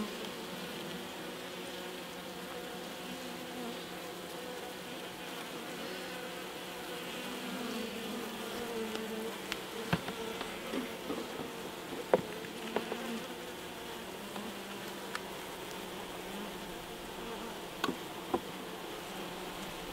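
Honey bees buzz steadily at a rucher colony that may need feeding, a dense continuous drone close by with occasional sharper passes of individual bees near the microphone.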